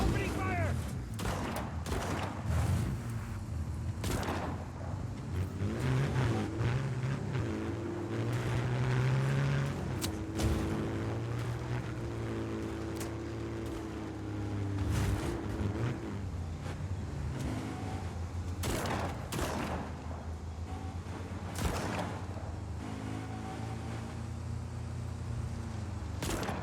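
Rapid bursts of gunfire crackle through a Just Cause 4 firefight over rumbling vehicle engines and dense in-game action noise that lasts the whole stretch. Some voices are mixed in.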